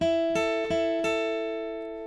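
Four picked electric guitar notes alternating between two strings, evenly spaced, with the final tone sustaining and slowly decaying.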